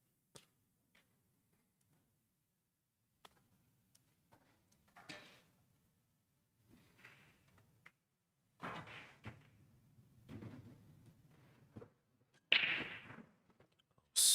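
Pool break shot at a 2023 VNEA championship match: sharp cue-ball strike followed by scattered clacks of balls hitting each other and cushions, moderately loud in a quiet hall, with sparse ticks and knocks around it.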